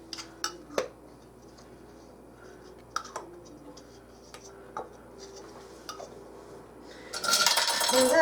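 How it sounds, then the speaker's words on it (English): Metal canning lids clink onto glass jars of home-canned black beans, a handful of sharp taps at uneven intervals close by, followed by a louder burst of clattering at the end. "We are going to put our little lids on each one of these."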